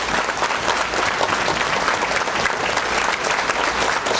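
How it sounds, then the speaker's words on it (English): An audience at an elementary school sixth-grade banquet applauds steadily, a dense, even wash of many hands clapping at once that holds level throughout without pauses or voices standing out. "give Miss Vanessa Esqueda a round of applause for being here with us tonight."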